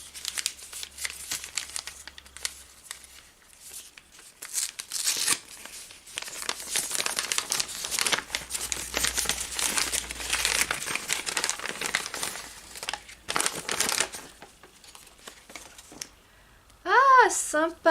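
Paper and plastic wrapping crinkle and tear close up as a Christmas box package holding a bookmark is opened, a long stretch of rustling with brief pauses and a short voice near the end.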